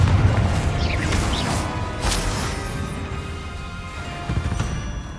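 A Confringo blasting spell explodes in the fantasy game Hogwarts Legacy, a loud rumbling boom with crackling debris that slowly fades over several seconds.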